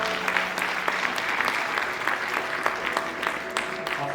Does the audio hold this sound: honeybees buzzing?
no